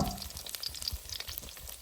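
Sour fish coated in rice flour and salt frying in plenty of oil in a pan: a steady close crackle and sizzle with small popping spits, heard on its own without talk.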